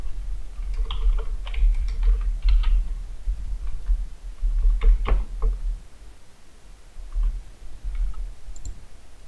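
Keys clatter on a computer keyboard as text is typed into a Microsoft PowerPoint slide, coming in quick close bursts with short pauses between them and no talking.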